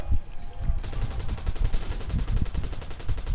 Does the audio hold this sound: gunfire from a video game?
yes